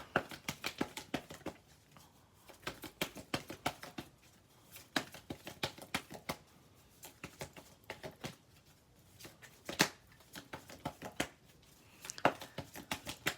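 Tarot cards shuffled by hand, a quick run of crisp papery riffles and slaps repeating in irregular bursts, close and fairly soft, with no talking.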